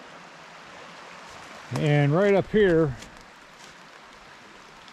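Steady broadband rush of creek water flowing at Little Salmon Creek runs continuously throughout, moderately close, while someone talks briefly over it in the middle.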